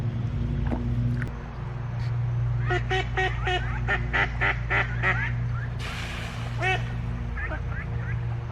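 Ducks on a backyard pond with a log to perch on, giving a run of loud nasal honking calls in quick bursts close by, over steady low background noise.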